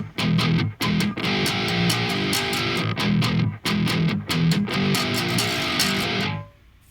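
A distorted 8-string guitar plays a heavy riff with hammer-ons and pull-offs, loud and rhythmic with brief choppy gaps, ending in a fade.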